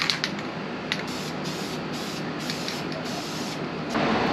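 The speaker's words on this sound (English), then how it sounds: "So I've got the fans going. I know it's going to be a little loud and kind of annoying" Fans running in a car workshop during an interior installation on a Fiat 124 Spider give a steady, loud broadband whoosh that fills the whole stretch, with a few faint clicks and no talk.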